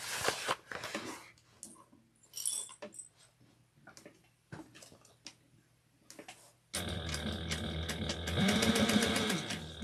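A sewing machine runs a 1/8-inch seam in short bursts of stitching separated by pauses, then settles into one longer, louder continuous run at the end.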